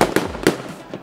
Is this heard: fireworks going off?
yes